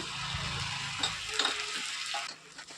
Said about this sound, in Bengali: এবার পেঁয়াজ ভাজার মধ্যে পেঁয়াজ মাটা দিয়ে দিলাম তারপর দিলাম দু টেবিল চামচ আদা রসুন বাটা